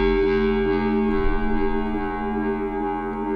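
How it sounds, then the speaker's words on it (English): Synthesized bass tone in Ableton fed through an echo into reverb without Redux, a sustained harmonic-rich drone holding steady with a soft washy ambient tail and repeating echoes, loud and alone. "What we're doing is we have an echo, which is then going to be reverb."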